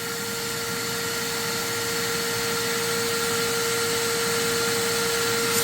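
A vacuum cleaner hose draws air while clearing an iced-up drain line in an LG LFXS26973S refrigerator, giving a steady, unbroken whooshing drone with a thin whine that stays at constant loudness, close by and with no talk.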